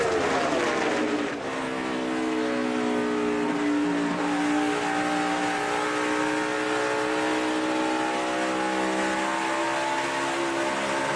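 NASCAR stock cars at the 2013 Ford EcoBoost 400 roar through a corner, a loud, continuous layered engine drone with rising and falling pitch as the pack sweeps past, close and steady throughout.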